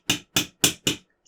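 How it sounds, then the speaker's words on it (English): Four evenly spaced, crisp taps of a hammer gently seating parts into a 1:8 scale 1955 Mercedes W196R model car, close and clear with silence between strikes, followed by a faint softer knock. "I'm being very gentle with this hammer"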